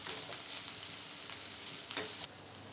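Chopped onions, some of them green, soften in a pan for peri peri chicken rolls while being stirred. A soft, continuous sizzle runs throughout, with a few brief scraping accents near the end.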